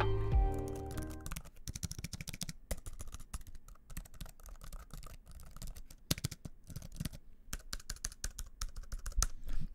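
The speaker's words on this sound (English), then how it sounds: "The old style of the ThinkPad keyboards just feel and sound so nice." Fingers type steadily on an old ThinkPad laptop keyboard, producing a dense run of crisp, close clicks with uneven rhythm and no talk.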